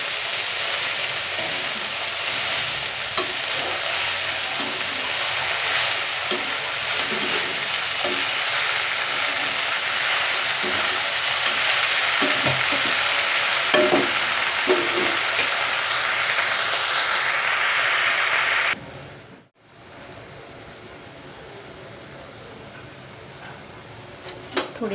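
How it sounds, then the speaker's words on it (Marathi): Fenugreek greens (methi bhaji) fry on high flame with a loud, continuous sizzling hiss and occasional stirring clatter. After a short cut the frying quiets to a softer steady bubble. "एक 5 मिनटं तरी गॅस असा फास्ट ठेवायचा आणि चांगली वर खाली करून घ्यायची."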